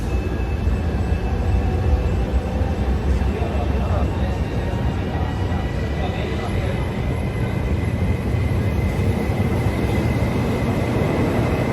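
A GO!2025 regional train for the Gorizia–Nova Gorica cross-border line makes a steady, loud rumbling hum with a continuous broadband drone and faint high whine throughout.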